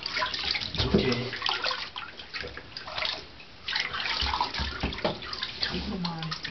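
Water runs and splashes unevenly while Molly the dog is bathed, with a voice speaking over the flow and clattering bursts in between.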